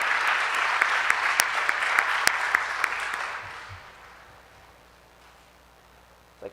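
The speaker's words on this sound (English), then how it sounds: "Round of applause." Applause at an honors celebration, steady clapping with a few sharp close claps for about three seconds, then fading away to quiet room tone.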